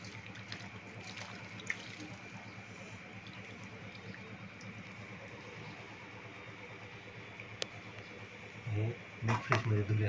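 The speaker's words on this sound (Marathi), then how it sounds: "आता अगोदर आपण ह्या मिक फ्रेशच्या पाण्यामध्ये ह्याला धुवून घेऊ" Grapes are washed by hand in water mixed with Green Planet's Make Fresh produce wash, giving continuous soft splashing and swishing, with louder sloshing toward the end.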